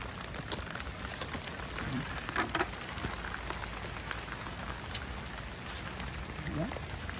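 Heavy rain pours steadily across an okra field during harvest, a dense constant hiss of drops on leaves and surfaces, with brief talk now and then under it.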